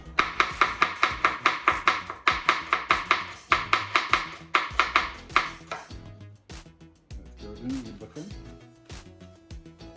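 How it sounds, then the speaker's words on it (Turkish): A chef's knife thinly slices onion on a board in quick, even bursts of sharp taps, then pauses as the cutting slows and a few scrapes follow. "uzun uzun piyazlık doğrayacaksınız"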